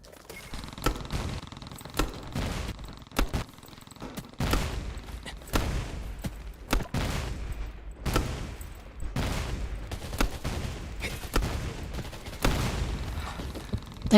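Rapid bursts of automatic gunfire crackle almost nonstop in the online shooter Undawn during a training match, loud and close with short gaps between volleys.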